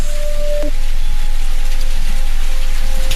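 Steady rain falls at night, a dense, even hiss close by with no breaks, a faint tonal hum briefly running beneath it.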